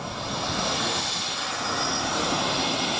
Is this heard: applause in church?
no